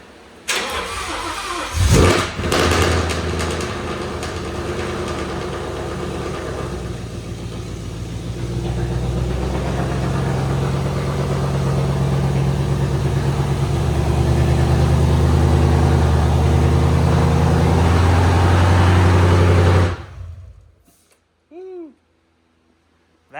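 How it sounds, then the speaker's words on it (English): A 2015 Ford Mustang GT V8 fitted with a Whipple supercharger fires up for its first start. The loud, close engine catches with a roar and settles into a heavy, rumbling idle that runs steadily for about twenty seconds before it is shut off. "We are currently getting ready to load the tune into the car and go for the first startup."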